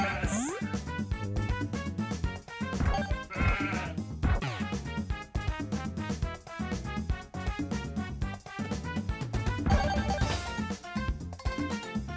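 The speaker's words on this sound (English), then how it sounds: "I've got sheep after me now." Sheep bleat in the Soccer Kid video game, set against busy, continuous game music that stays loud throughout the twelve seconds.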